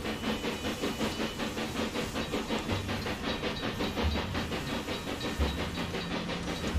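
Steam locomotives in the Railway Empire 2 game, a newest mixed-passenger engine meeting a newest goods engine, chug with rapid rhythmic steam hiss and puffing, steady and fairly loud throughout.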